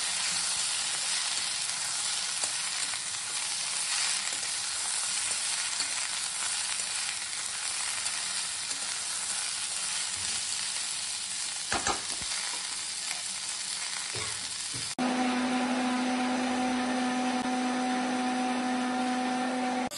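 Chopped long beans (borboti) frying in a pan with a continuous broadband sizzle, a couple of brief stirring knocks midway, then a steadier hum joining for the final stretch.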